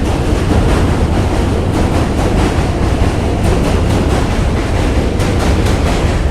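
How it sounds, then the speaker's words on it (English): Loud, continuous rattling and rumbling of a passing train, with rhythmic clacks repeating over heavy wheel and rail noise throughout. "Trains are rattling."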